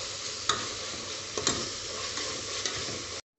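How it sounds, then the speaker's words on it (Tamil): Ginger and garlic sautéing in a pan for semiya kichadi, a soft steady sizzle with a few sharp clicks of a spoon against the pan. "நல்லா பச்சை வாசனை போகிற வரைக்கும் இஞ்சி பூண்டு வதக்கிட்டு"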